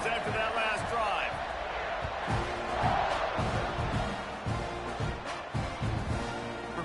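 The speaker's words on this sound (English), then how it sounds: "this crowd is feeling themselves after that last drive" Stadium crowd at a football game roars steadily during a kickoff, a dense sustained wash of cheering with a commentator talking over it throughout.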